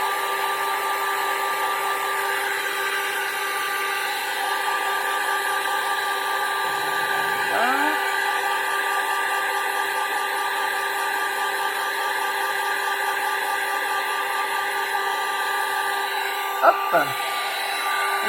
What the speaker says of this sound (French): je l'ai fait avec le pistolet à chaud, le heat gun, parce que j'avais le heat gun sous la main